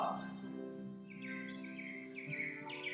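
Chirping birdsong runs through a soft instrumental music track played during a Chen style t'ai chi practice, with repeated bright twittering calls over sustained tonal notes at moderate volume.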